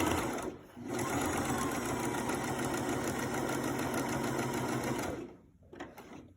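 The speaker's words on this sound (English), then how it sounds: "start sewing this with 1/2 inch seam allowance" A sewing machine stitches a shirt collar in a fast, steady mechanical whir that runs nearly continuously, breaking off briefly near the start and again toward the end, with a few short stitches after the pause.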